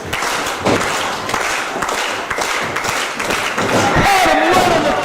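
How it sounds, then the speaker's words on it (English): A wrestling crowd at a live Mount Holly show claps and cheers in a dense, continuous roar, with thuds from the ring and a commentator talking over it. "The crowd's behind him here in Mount Holly."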